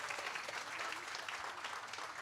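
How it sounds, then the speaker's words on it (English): A crowd of families applauds for teachers at a 5th grade moving-up ceremony, steady dense clapping filling the room from start to finish with no talk. "But let's give them a round of applause."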